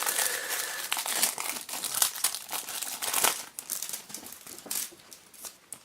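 Plastic wrapper of a trading card booster pack crinkling and tearing as it is opened, busy close rustles and sharp crackles throughout, no voices.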